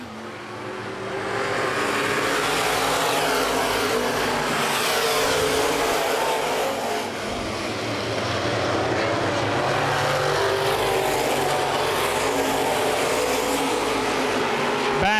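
Open wheel modified race cars battling at Baer Field Speedway in 2012, a dense, continuous engine roar from a pack of cars with rising and falling passes, heard at a distance under a track announcer's commentary.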